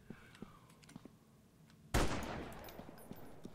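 Gunfire in a video game aimed at mutant creatures: a few soft taps give way to a sudden loud burst of rapid shots and a lingering roar.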